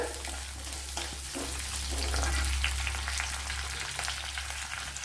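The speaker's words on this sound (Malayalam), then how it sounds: "രണ്ട് പച്ചമുളക് ഇത്രയും കൂടെ ഒന്ന് മൂപ്പിച്ചെടുക്കണം പച്ചമുളക് കൂടെ ഇട്ട് കൊടുക്കുക" Green chilies sizzle in hot oil in a pan with garlic and ginger for a Kerala tapioca masala, a steady close crackle with occasional stirring scrapes and no talking.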